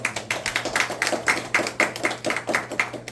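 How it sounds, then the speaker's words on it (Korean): An audience at a Korea Science Academy alumni talk claps in a steady, rhythmic beat to welcome a speaker, close and fairly loud for a few seconds. "박수로 맞이해주세요."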